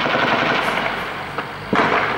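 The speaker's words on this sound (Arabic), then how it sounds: "انفجارات وإطلاق نار كثيف في درعا" Heavy gunfire in Daraa al-Mahatta, Syria, after a violent explosion, rattling bursts over a dense background with a couple of sharper cracks standing out, loud and fairly close.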